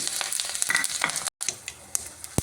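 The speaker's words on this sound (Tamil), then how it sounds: "கொஞ்சமாக கடுகு ஒரு கால் டீஸ்பூன் சீரகம் பச்சை மிளகாய் ரெண்டு ஒரு சின்ன கட்டி பெருங்காயத்துண்டு ஒன்று அது எல்லாத்தையும் இதில் போட்டேன்" Mustard seeds, cumin, green chillies and a lump of asafoetida sizzle and crackle in hot oil for an Udupi rasam, a dense continuous frying hiss with sharp popping spatters, close and steady apart from a momentary break, with no talking.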